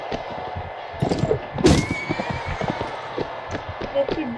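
A horse whinnies loudly amid quick hoofbeats and clattering during a Mount & Blade tournament fight, close and busy, with steady background noise throughout.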